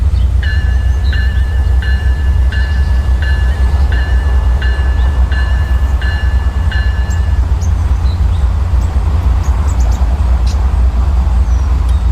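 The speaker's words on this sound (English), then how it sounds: "NS 1224 passing Lancaster Station going 40" Norfolk Southern train NS 1224 passing Lancaster Station at around 40, with a loud, steady low rumble throughout and a string of short, evenly spaced bell- or signal-like tones during the first half.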